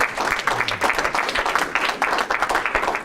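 An audience at a live comedy-magic show bursts into sustained applause, dense rapid clapping from many hands filling the room at steady loudness, with faint voices underneath.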